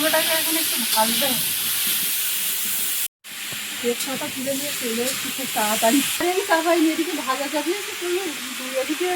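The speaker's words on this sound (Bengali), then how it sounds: "কুমড়োটাকে আগে ভেজে নিচ্ছি" Pieces of garden pumpkin frying in oil hiss and sizzle steadily in a pan, with a person talking over the cooking noise throughout and a brief cut to silence partway through.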